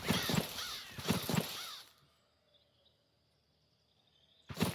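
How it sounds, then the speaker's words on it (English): A crow croaks and caws in a forest in the WW2 game Valor & Victory, a few harsh calls close together at first, then quiet ambience with faint insects before another call. "this crow's sort of croaking means that they are moving through the forest"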